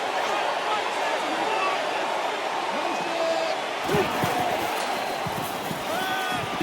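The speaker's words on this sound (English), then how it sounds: "The crowd really making it difficult." Dense, steady stadium crowd roar from a simulated NCAA Football 14 college football game, loud and continuous throughout, with a brief surge of louder cheering partway through.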